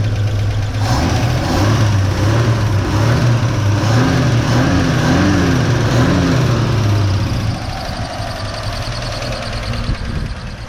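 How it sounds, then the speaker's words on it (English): A 1969 Chevrolet C10 truck engine runs steadily and loud, with rising and falling revs from throttle blips before settling back toward idle near the end. "I'm gonna rev up the engine, and then I'm gonna see like with the throttle."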